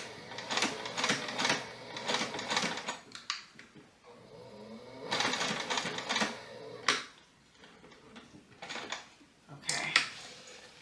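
A sewing machine stitches an upcycled pencil pouch in quick rattling bursts, several runs of rapid clatter separated by short pauses, fairly close and clear.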